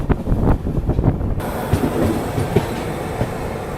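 A train rolling through the loop line at Amla station, a loud rumbling rush with rhythmic clatter of wheels over rail joints, heard from on board with wind buffeting the microphone and no talk.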